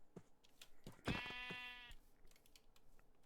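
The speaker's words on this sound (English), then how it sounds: "Oh, there's 3 brown sheep." A single sheep bleats in the video game Minecraft, one wavering mid-pitched baa lasting under a second, heard over soft keyboard clicks and quiet background noise.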